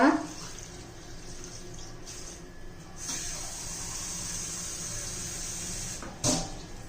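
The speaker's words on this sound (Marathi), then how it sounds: "एक ग्लास पाणी घातले मी" A glass of water poured into a pressure cooker holding crushed groundnut pods: a steady, close splashing rush that runs for several seconds, with a brief clunk near the end.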